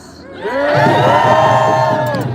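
Crowd at an ICE protest in Foley Square cheering, a loud swell of whoops and shouts rising after a quiet start and holding strong, with many voices overlapping in a sustained roar.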